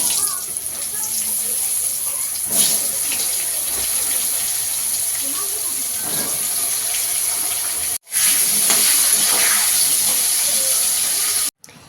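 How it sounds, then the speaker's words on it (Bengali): Pointed gourd (potol) fries in hot oil with a constant close hiss and sizzle, interrupted by two brief cuts and a few soft utensil knocks. "এবার আমরা পটলগুলো ভাজা করে দিচ্ছি।"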